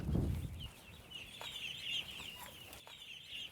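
Young chickens in a brooder house with a nipple watering system give soft, scattered high clucks and peeps at moderate distance over low room hum, with a brief low thump at the start.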